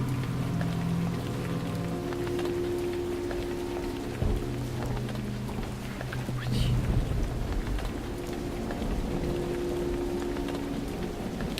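Steady rain falling in the stealth video game Dishonored, a constant close wash of raindrops on surfaces, with low tonal game sounds and a brief thud partway through.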